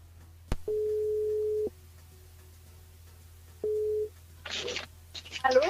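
A phone line rings out for a live radio call-in show, two long steady ring tones separated by silence, then a brief burst of noise and a voice at the end.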